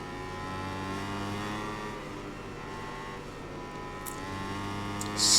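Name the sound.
motorbike engine revving in the video game MotoGP 21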